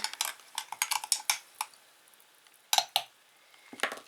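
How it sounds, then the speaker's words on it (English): Spoon clinking against a container while stirring sprouting seeds in water: a quick run of sharp taps, a pause, then a few more clinks, close and fairly quiet. "Might have to kind of stir them up to get them to"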